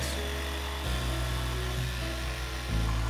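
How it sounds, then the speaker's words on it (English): A jigsaw cuts a channel between two drilled holes in a barn wood support for a bar, giving a loud, continuous buzzing drone whose pitch and pressure shift as the blade bites, heard up close without speech. "I then took a jigsaw and cut out the channel between the 2 holes."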